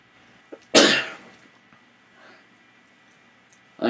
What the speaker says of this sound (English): I coughed and farted just now.